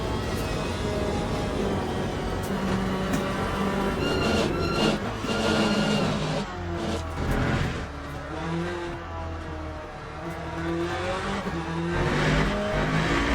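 A Corvette Z06 LMGT3.R race car lapping Spa in a racing video game, its engine droning loud and steady with rising and falling pitch through gear changes, continuous throughout without any talk.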